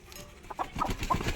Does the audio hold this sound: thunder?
no